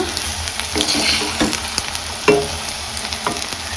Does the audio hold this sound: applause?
no